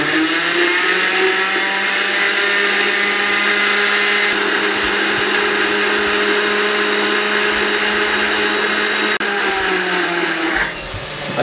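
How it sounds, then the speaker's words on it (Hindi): A blender grinds ingredients with water into juice, running loud and steady at close range for about ten seconds before winding down, with no talking. "इसके ऊपर हम कवर लगा देंगे और इसको अच्छे तरीके से हम यहाँ पे ग्राइंड कर लेंगे।"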